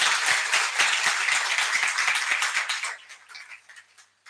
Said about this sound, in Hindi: एक बार जोरदार ताली सिद्धांत जी के लिए